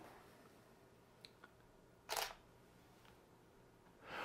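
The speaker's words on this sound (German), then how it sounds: "wir machen mal einfach ein Foto" A camera shutter on a single-lens reflex camera fires once as a photo is taken, a short crisp mechanical snap in a quiet room, preceded by faint small clicks and followed by a soft rustle.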